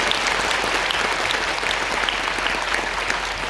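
A church congregation claps for the choir at a New Year thanksgiving and inauguration service. The applause is even and continuous, with sharp individual claps popping out from the crowd.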